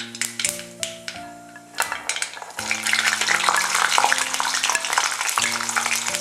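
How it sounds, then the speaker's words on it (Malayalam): Ginger, garlic, green chilli and curry leaves sauté in hot oil with a loud, steady sizzle, a spoon stirring and clinking against the pan, while a few sustained tones sound in the background. "ഇഞ്ചി, വെളുത്തുള്ളി, പച്ചമുളക്, കറിവേപ്പില ഇതെല്ലാം കൂടെ ഈ എണ്ണയിലേക്ക് ഇട്ടിട്ട് വഴറ്റിയെടുക്കണം"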